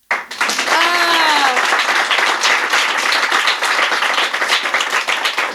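A live studio audience at a comedy show claps loudly and steadily, close and dense, while a voice briefly rises over the applause near the start.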